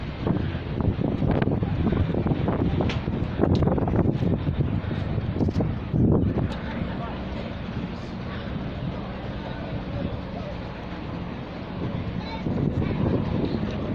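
Strong wind gusting and buffeting the microphone continuously at a high vantage point over a car event, with muffled rumbling beneath.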